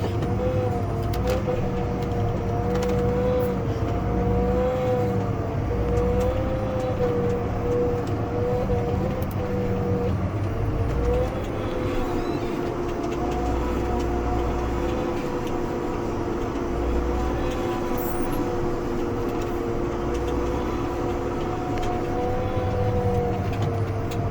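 A self-propelled hay bale stacker drives through a field during second-cutting hay baling in Idaho, its engine a steady, close drone with a wavering tone, running continuously for the whole stretch.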